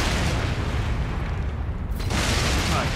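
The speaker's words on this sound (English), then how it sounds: "it's just an explosion" A loud, sustained explosion in the video game Elden Ring roars as a dense rumbling blast that fills the whole stretch, with no talking.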